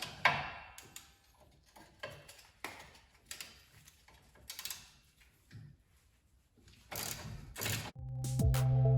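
A ratchet wrench turning an 18 mm lower shock mount nut on an 88-98 OBS Chevy K1500 truck, giving bursts of fast clicking with pauses between strokes, close and moderately loud, ending in a louder scrape.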